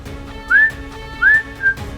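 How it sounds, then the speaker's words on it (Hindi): Human catcall whistling in a comedy sitcom scene: two loud rising whistles followed by a shorter third, sharp and close over faint background noise. "बिल्कुल ऐसी सीटियां"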